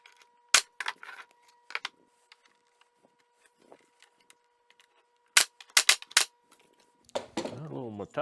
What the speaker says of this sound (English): That little Metabo really goes off with a bang.